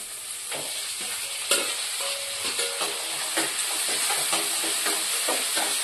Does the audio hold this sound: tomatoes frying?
yes